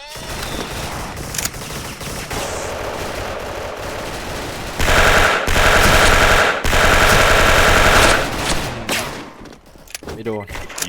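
Machine gun fire from the online shooter Special Force crackles in loud sustained bursts, with a long heavy volley in the middle and scattered shots before and after, while a voice talks over parts of it.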